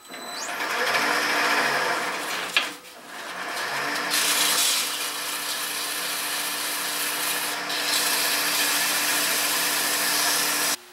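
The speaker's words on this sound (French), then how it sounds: "On lui donne un petit coup de sablage." A wooden openwork vase being sanded as it spins on a wood lathe: a loud, continuous rushing abrasion over a steady motor hum, with one brief dip partway through.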